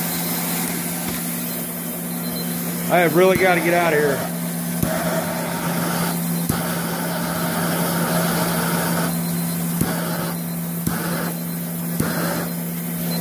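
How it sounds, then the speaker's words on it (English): Charcoal gasifier burner roaring steadily with steam injected into its combustion chamber, a constant loud hum and hiss lasting throughout, with someone talking over it and brief sharp knocks. "I'm going to inject more steam into the combustion chamber now."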